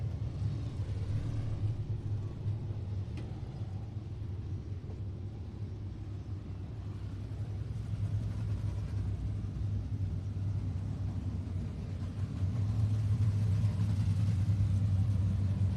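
Race cars circle the track at Texana Raceway Park during a short-track event, a continuous low engine rumble and drone that rises and falls slightly, heard from a distance without talk.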